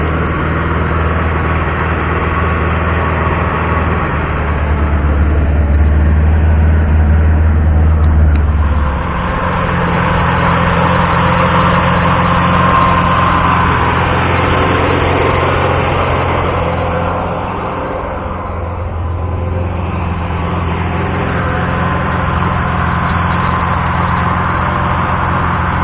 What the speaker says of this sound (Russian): С 4-й попытки завелся.